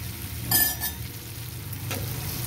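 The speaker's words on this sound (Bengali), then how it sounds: "মশলাটা কষানো হয়ে গেছে, মশলাতে তেল ছেড়ে গেছে, এবার আমি আলুটা দিয়ে দেবো" Potatoes tumble into hot oil and spice masala for kacha kolar kofta curry and start frying, giving a steady close sizzle with two short louder bursts as they are stirred in.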